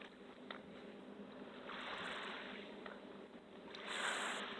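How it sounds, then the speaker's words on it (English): Gentle water laps at a secluded beach on Saguaro Lake, a scenic lake ringed by cliffs. The wash is soft, steady and faint, with small swells and no voices. "Listen to the sound of that water."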